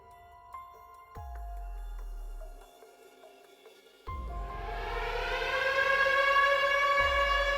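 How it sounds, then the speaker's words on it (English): A few low booms, then a mechanical city civil defense siren winds up and wails, rising and growing louder and piercing. "The city sirens started wailing, long, mechanical, piercing."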